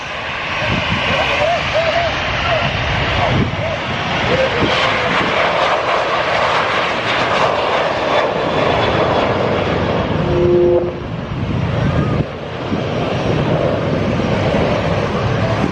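An EasyJet airliner roars loudly on the runway at Manchester Airport, a sustained, powerful engine rumble close by, with voices talking over it.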